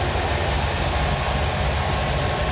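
A carbureted engine idles loud and close with a steady, rough low rumble and constant mechanical noise, no talking.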